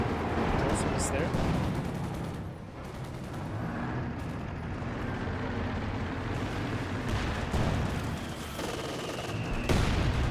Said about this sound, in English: And one AT gun does make a shot there onto the Panzer IV.